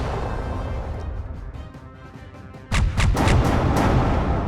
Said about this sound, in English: What should we do first? Portal cannon.